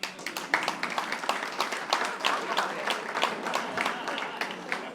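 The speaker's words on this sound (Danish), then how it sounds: "Prøv at klappe en gang." A small audience at a comedy show breaks into brief, scattered clapping, a modest patter of hands at moderate distance that carries on for a few seconds.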